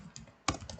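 Function key pressed on a computer keyboard in 3D apparel CAD software, a few light close clicks with one sharper keystroke near the middle, quiet and brief.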